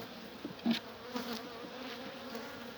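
Soft, steady buzzing of honeybees around a hive during a winter check, with a few brief louder passes close by over a faint background hum.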